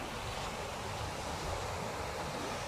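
Sea waves wash ashore at an offshore beach in Dubai, producing a steady broadband rush like surf mixed with wind, moderately faint and unbroken.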